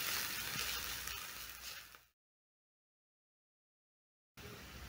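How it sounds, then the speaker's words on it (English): Onions frying in a pan, a steady broadband sizzle for about two seconds that fades, then silence, and the sizzle returning near the end. "Then I'm going to cook the onions until soft."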